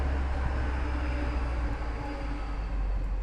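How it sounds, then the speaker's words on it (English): A train rumbles past steadily, a dense, continuous roar with low rumble and broad noise throughout, loud and close. "That was the train going by on the audio."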